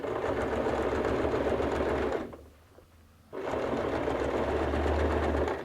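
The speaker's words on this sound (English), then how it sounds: "Go ahead and sew at the edge of the binding." A sewing machine stitching with a long stitch length along the edge of bias binding, a loud steady mechanical whir that stops for about a second midway before starting up again.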